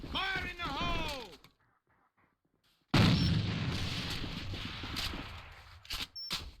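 A grenade blast in the shooter game A.V.A, a sudden loud boom after a shouted warning and a short silence, followed by a rumbling tail and scattered pops under voices.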